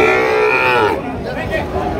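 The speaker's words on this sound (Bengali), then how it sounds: "শাহিওয়াল জাতের গরু।" A Sahiwal breed bull at a cattle market in Joypurhat lows in one drawn-out, fairly loud moo that fades after about a second, followed by nearby market chatter and voices.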